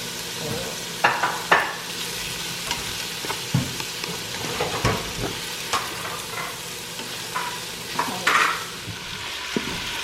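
Meat browning in an Instant Pot, a soft continuous sizzle broken by scattered clinks and scrapes of a utensil stirring against the pot, close but fairly quiet, with no voices.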